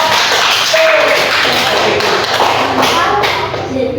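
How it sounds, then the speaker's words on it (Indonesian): Applause for a group of PPG 2024 teacher-training participants at a class farewell event, dense steady clapping filling the room for several seconds with voices mixed in underneath. "tepuk tangan untuk kelompok."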